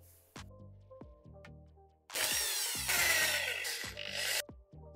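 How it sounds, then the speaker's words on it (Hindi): A step drill bit bores a hole through heavy sheet metal for a homemade bicycle gearbox, a loud grinding whine lasting about two seconds over quiet background music. "सबसे पहले हम इसके मिड पॉइंट को निकाल करके स्टेप ड्रिल बिट की मदद से होल कर लेते हैं।"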